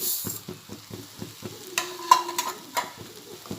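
Shredded cabbage with sugar fries in a pan for a Konkani dish, stirred in quick, regular scraping strokes about four times a second over a soft sizzle.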